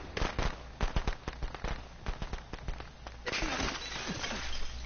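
Firecrackers burst in the Friday the 13th video game, a rapid string of sharp, crackling pops followed by a denser hiss of crackle, loud and close with no talk over it.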